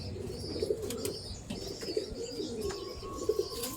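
Pigeons coo close by in a loft in West Bengal, several low rolling coos repeating every second or so, with a few faint chirps and light flapping around them.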